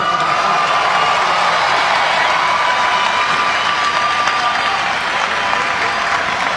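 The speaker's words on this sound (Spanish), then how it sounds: "los que quieren a Don Bosco, un aplauso." A large audience breaks into loud, continuous applause for Don Bosco, thick clapping mixed with scattered cheers and whoops that holds steady throughout.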